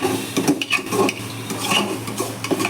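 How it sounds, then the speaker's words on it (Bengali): Lentils are stirred with spices in a pan while cooking khichdi, a spoon scraping and clinking against the pan in quick irregular strokes with a faint sizzle underneath and no talking. "এবার আমি এই ডালটা মশলার সঙ্গে ভালো করে কষিয়ে নেব"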